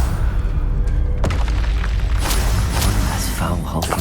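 Confringo spell explosion in the Hogwarts Legacy video game, a loud booming blast with crackling bursts over busy game sound while a voice talks.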